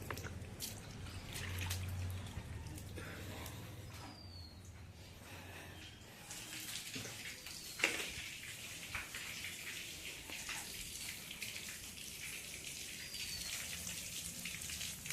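A bucket fills with running water, a faint steady splashing and trickle with scattered drips heard from a short distance.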